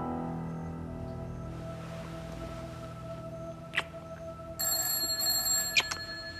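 A telephone rings in a domestic scene from a drama, sounding as short metallic bell bursts that grow louder and denser toward the end over a quiet room tone.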